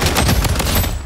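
Sustained loud automatic gunfire in the Blood Strike shooter game, a dense continuous rattle of rapid shots close up with no pauses.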